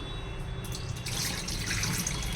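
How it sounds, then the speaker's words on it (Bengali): Water poured off chilled prawns that were taken from the fridge and left soaking, a steady splashing flow running for a couple of seconds, close and alone. "একটু জলটা ফেলে দিই"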